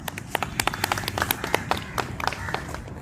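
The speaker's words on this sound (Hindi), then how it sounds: "ताली हो जाए।" A group claps while toppers of a Bihar Police exam group discussion are announced, giving a few seconds of uneven, fairly close handclaps with sharp individual slaps standing out over a low murmur.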